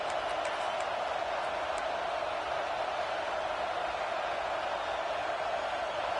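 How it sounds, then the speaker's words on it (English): A big football stadium crowd in Happy Valley roars steadily on third down, a continuous wash of distant massed voices holding at one level throughout with no break. "Here comes the noise from this big crowd in Happy Valley on third down."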